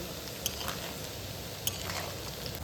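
Steady crackling sizzle of gulab jamun frying in hot oil, continuous and close, with a couple of faint clicks.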